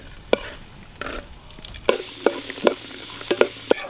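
Raisins and cashews fry in hot coconut oil for poha chivda, a soft sizzle that swells louder partway through while a spoon stirs and scrapes the pan in repeated sharp clicks, close up.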